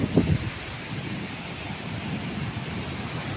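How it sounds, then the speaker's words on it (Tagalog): Wind roars steadily across the microphone at Baler beach in the Philippines, with big ocean waves rumbling underneath in a constant broadband wash and a brief gust at the start. "Kaso malalaki po ang alon dito ngayon."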